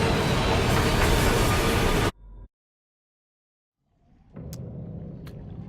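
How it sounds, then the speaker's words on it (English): A ghost train in the video game Murdered: Soul Suspect, a loud roaring rumble that cuts out suddenly, followed by silence and then a quieter rumble with a couple of sharp clicks. "My fucking god, this train is loud as shit."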